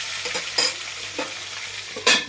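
Fish heads frying in oil in a covered pan, giving a steady soft sizzle broken by a few sharper spatters and clinks, with no voices.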